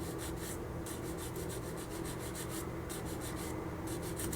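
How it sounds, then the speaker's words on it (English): A coarse sanding stick is rubbed back and forth along the edge of a 1/48 MiG-17F plastic model kit, giving a soft steady rasping with rhythmic strokes, quiet and close. "So I'm going to take my sanding stick,"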